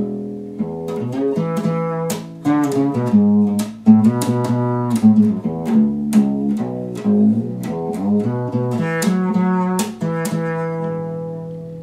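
Unamplified Jazz Accomplice acoustic bass guitar, converted to fretless, plays a plucked melodic line with gliding, smooth notes, close and moderately loud, with no talking.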